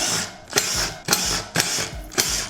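Power tool spinning out the brake rotor bolts on a Sur-Ron electric motorbike wheel fitted with an upgraded 220 rotor, in four short whirring bursts separated by brief gaps, close and loud with no talk.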